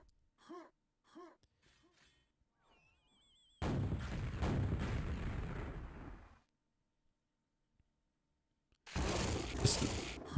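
Grenade explosions in the QuakeWorld deathmatch video game, two heavy blasts in quick succession filling a burst of about three seconds, then quiet, then another loud explosive burst near the end after brief sharp sounds at the start.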